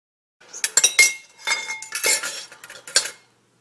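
Metal utensils clink against a glass bowl or measuring spoon as a teaspoon of vanilla goes into Amish friendship bread batter, a close, bright run of irregular taps and rattles lasting about three seconds with no talk.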